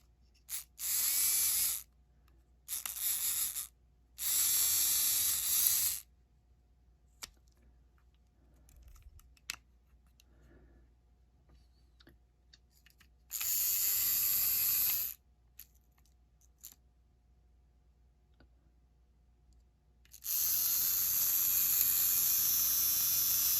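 A Ringfield model locomotive motor with a brass cog runs off a 9-volt battery, giving bursts of high, hissing whir: three short runs near the start, then longer stretches around the middle and end, separated by quiet pauses.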